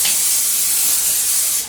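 A single continuous hiss of an aerosol can of vegetable cooking oil spray, steady for under two seconds before cutting off.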